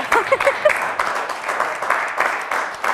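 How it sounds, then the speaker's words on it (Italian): Studio audience at an Italian TV quiz show applauds a team from Dignano after a correct answer, a dense run of clapping lasting a few seconds with a voice briefly heard at the start. "fatevi un applauso"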